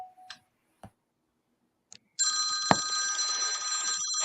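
Telephone ringing at a phone repair shop: a few faint clicks and ticks, then a steady electronic ring starts midway and continues loudly to the end.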